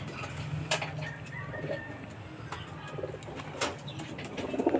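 Pigeons in a loft, with soft cooing and occasional wing flaps and chirps over steady background hum, moderately near and fairly quiet.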